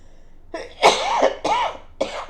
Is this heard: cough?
yes